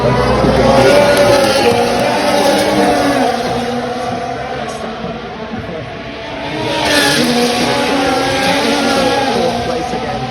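Formula 1 race cars roar past at the Hungarian Grand Prix, a loud continuous engine drone that swells, dips and surges again, blended with distant crowd noise.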